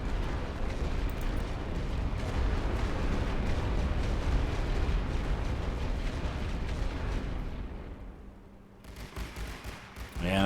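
Artillery batteries fire in The Great War: Western Front, a dense, continuous rumble of booming shots and distant blasts that thins out near the end before another burst.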